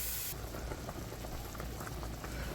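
Water with meat in it bubbling at a rolling boil in a pot, a steady soft simmering hiss with faint pops, continuous and close.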